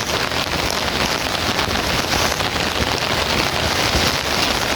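Heavy rain pours steadily onto surfaces in a dense, loud, unbroken hiss, with no voices or other sounds over it.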